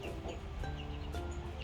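Chickens on a homestead cluck softly under a steady, noisy outdoor background. Short, scattered calls come from nearby and no one speaks.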